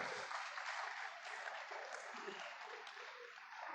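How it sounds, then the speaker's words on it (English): Steady applause from a lecture audience at an annual public lecture, a dense wash of many hands clapping at an even level throughout, fairly distant and without speech over it. "A round of applause for her."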